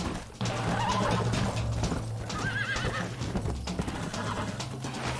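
A horse's hooves clip-clop at a steady gallop while it neighs and whinnies over a busy, continuous background of game sound in Red Dead Redemption on PS3.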